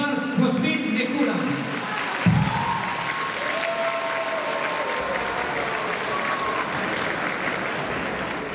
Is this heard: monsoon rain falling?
no